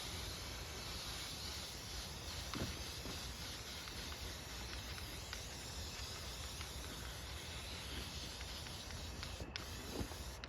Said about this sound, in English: This stuff sprays really quick and covers really, really good.